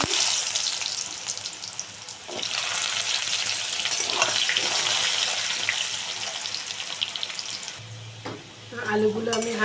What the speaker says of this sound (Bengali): তো আলুটা আমি ভেজে নিচ্ছি।